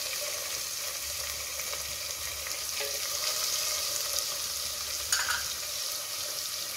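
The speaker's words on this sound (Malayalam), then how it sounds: "നമുക്ക് ഒന്ന് ഇളക്കിച്ചെടുക്കാം. നമുക്ക് സ്പ്രിംഗ് ഓണിയൻ്റെ വൈറ്റ് പാർട്ട് ഇട്ടെടുക്കാം." Fried rice with spring onion whites stir-frying in a pan, giving a steady, close sizzling hiss with soft scraping stirs throughout and no talking.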